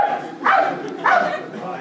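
A Dutch dog barks twice, close and loud, two sharp evenly spaced barks in under two seconds.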